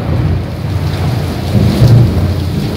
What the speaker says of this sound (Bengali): প্রচণ্ড জোরে বিদ্যুৎ চমকায়